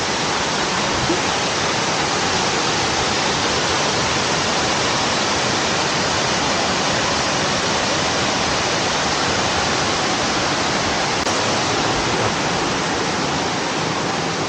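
Strong, steady rush of a powerful water current at Wawa Dam, a loud broadband roar that fills the whole stretch without letup.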